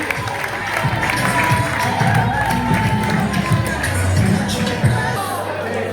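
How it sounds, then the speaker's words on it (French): An audience at a school cultural day event claps and cheers loudly and continuously, with shouts and crowd babble mixed into the steady applause. "Sous vos applaudissements, s'il vous plaît, de maximum de bruit."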